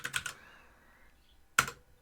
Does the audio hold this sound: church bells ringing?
no